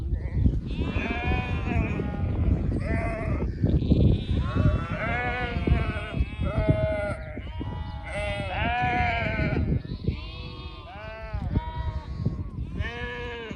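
A flock of sheep and lambs on a Turkish farm bleats almost without pause, many overlapping calls of varied pitch, loud and close, with no speech.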